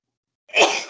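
One abrupt, close sneeze bursts out of silence, a sharp breathy blast that tails off over a fraction of a second.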